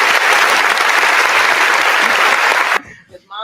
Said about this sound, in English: claps for the mom